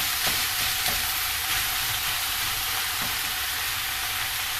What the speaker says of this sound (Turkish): Bu arada patatesleri çok kızartmıyorum. Çok hafif kızartıyorum.